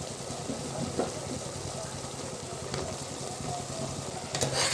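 Mushrooms frying in a pan for mushroom pulao, a constant close sizzle with a few light stirring knocks, and some voice faintly in the background.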